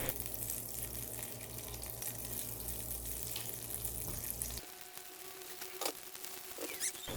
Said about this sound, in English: In a pan, add 2 tablespoons butter, let it melt slowly.